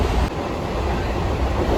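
Steady low rumble and rushing noise from inside a moving, empty train, a continuous broadband roar with no voices.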